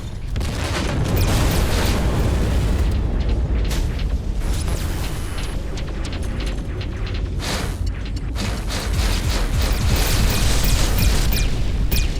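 Torpedoes slam into a spaceship in the space combat game Everspace 2: loud, continuous rumbling booms and crackling bursts of explosions, dense and unbroken for several seconds with sharper impacts scattered throughout.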